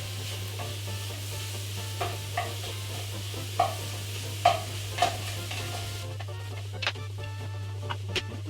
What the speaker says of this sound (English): brown up the beef first